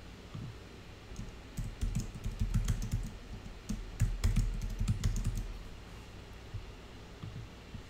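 Someone types a password on a computer keyboard, with quick, uneven runs of soft key clicks and a few sharper taps, close and fairly quiet, with no voices.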